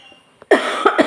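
One person coughs hard several times in close succession, loud and near, after a short quiet pause with a small throat sound.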